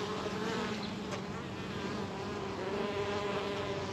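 Honey bees buzz continuously around a nucleus hive, a dense, steady drone from many insects close by, with no talk over it.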